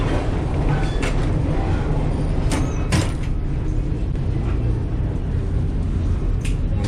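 Inside an Alaska Railroad passenger car on the Anchorage to Seward line, a steady rolling rumble fills the cabin, with a few faint clicks and knocks over it and no one speaking.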